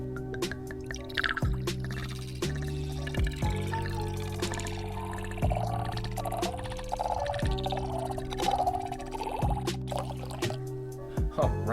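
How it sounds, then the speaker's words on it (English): Mead slowly poured into a glass, a soft trickling and dripping stream running steadily beneath a loud musical background. "here we go with the slow pour number 2 coming at you."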